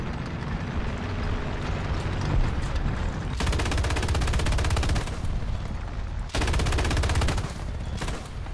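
A ZSD anti-aircraft gun in War Thunder fires two long, rapid bursts of rattling shots over a constant rumbling battle background, the second burst starting abruptly and equally loud.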